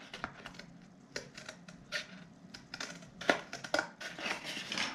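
Scissors snip through chipboard in a run of close, quiet, crisp cuts, irregular clicks and crunches spaced by short pauses.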